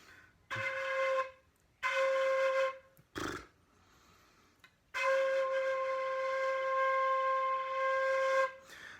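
An American Plating 150CN fife sounds sustained, slightly wavering notes in three separate blows, the last held longest, with a breathy gap between them.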